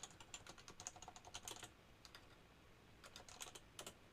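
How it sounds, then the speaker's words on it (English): Keys tapped on a computer keyboard while entering kanji characters, coming in quiet irregular bursts of clicks with a pause in the middle, fairly faint. "You can type in some kanjis"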